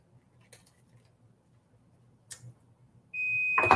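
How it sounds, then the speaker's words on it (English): A kitchen timer goes off with a steady, piercing electronic beep during cookie baking, starting abruptly near the end after quiet faint ticking and a couple of soft clicks. "I hear the timer. So let's go check the cookies, see if they're ready"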